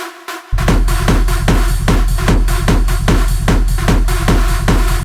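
Hard techno lead synth shaped with EQ and multiband compression, a bright gritty repeating stab riff over a driving pounding kick, loud and dense after a short quieter start.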